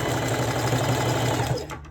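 Sewing machine running a zigzag stitch, a loud, close, fast mechanical chatter that continues steadily, then slows and stops near the end.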